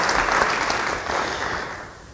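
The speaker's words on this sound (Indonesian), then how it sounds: "Beri tepuk tangan bagi dia." A church congregation applauds during a sermon, a dense, even wash of clapping from many hands that holds steady and then eases slightly near the end, with no speech.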